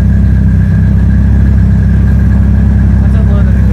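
A Nissan 240SX engine idles steadily at about 1000 rpm after its distributor is adjusted, a close, even low rumble that holds constant throughout.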